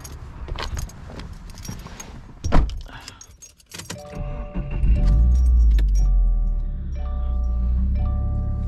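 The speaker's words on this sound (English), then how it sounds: "Let's go back in the car, start it up and go for a ride." Keys jangle near the ignition of a 2018 Subaru WRX before the engine cranks and catches, settling into a steady, fairly loud idle rumble with a faint chime pattern over it.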